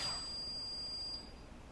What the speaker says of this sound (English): He went forward and he beeped.